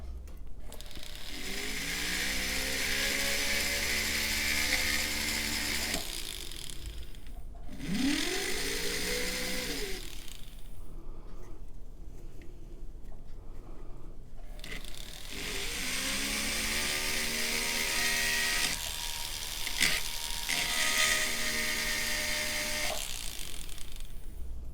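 A rotary tool fitted with a cylinder burr cuts two notches into metal to fit a basket for prong-setting a stone, whining steadily in long bursts with a short pause and rising pitch sweeps as the tool spins up and bites.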